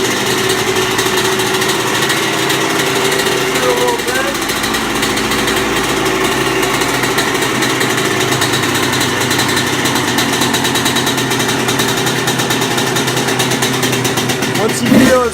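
Two-stroke motorcycle engine after a cold start with the choke on, idling steadily and loud throughout, with a brief rev blip near the end.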